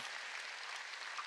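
A church congregation applauds during a sermon, a dense steady patter of many hands clapping at once, moderately loud and continuous throughout the short stretch.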